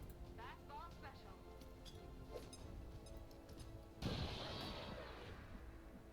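A grenade explodes in XCOM 2: War of the Chosen with the Long War mod, a sudden broadband burst about two-thirds of the way in that decays over a couple of seconds, over steady game ambience and clicks.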